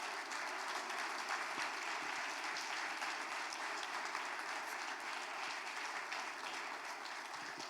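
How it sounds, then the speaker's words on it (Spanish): Church congregation applauding during a sermon, steady continuous clapping from a crowd, somewhat distant and moderate in level, with no talking over it. "Dale un aplauso al Señor."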